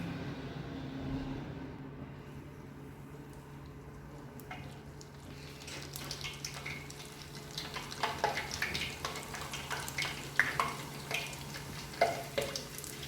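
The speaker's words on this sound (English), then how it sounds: "Our oil is hot, so we are going to deep fry the samosas." Beef samosas deep frying in hot oil, a low steady bubbling that grows busier with crackling pops over the latter half, close and moderate in level.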